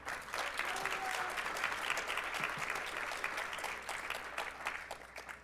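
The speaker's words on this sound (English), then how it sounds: "let's have another round of applause for our graduates." Sustained applause for graduates at a university graduation ceremony fills a hall, a steady dense patter of many hands clapping that eases slightly toward the end.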